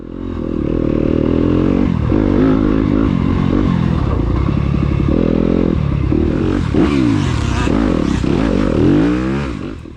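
Yamaha YZ250F dirt bike ridden hard along a rutted enduro race trail, the four-stroke engine loud and close throughout, constantly revving and shifting pitch with clattering over rough ground, no talk.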